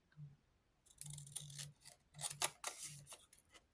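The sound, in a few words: cutting paper with scissors for craft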